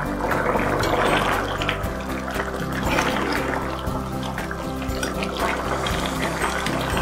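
Goat intestine curry with chana dal boils in a covered pot, giving a steady close bubbling and hissing simmer that runs throughout.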